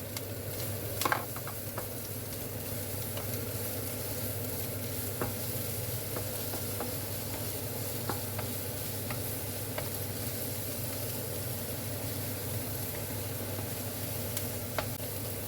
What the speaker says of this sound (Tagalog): Tapos yung ham, i-fried natin ng konti ang ham para mas masarap.